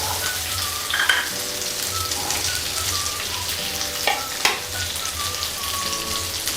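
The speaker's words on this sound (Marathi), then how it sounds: "सर्व भाज्या आपल्याला तेलामध्ये परतून घ्यायच्या आहेत" Mixed vegetables — peas, cauliflower, beans, carrot and capsicum — sizzle steadily in hot oil for a restaurant-style veg Kolhapuri, with a continuous close frying hiss and a few brief stirring clatters, no talking.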